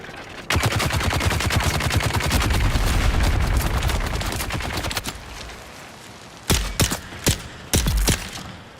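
Video game gunfire and grenades in Dune: Awakening: a loud sustained burst of rapid automatic fire for several seconds, then a pause and a handful of separate heavy shots and blasts.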